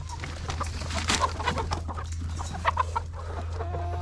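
Hens in a free-range flock cluck repeatedly around their coop, with soft clucks and short calls close by over a steady low background hum.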